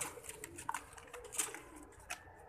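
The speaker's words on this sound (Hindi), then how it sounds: "2022 वैसाख और जेठ की तैयारी के कबूतर" Pigeons coo softly in short, low murmurs amid faint background noise.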